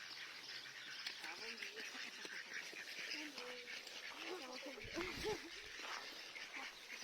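Ducks gather by a lake, with a few faint quacks and bird calls scattered over a quiet outdoor background while people talk nearby.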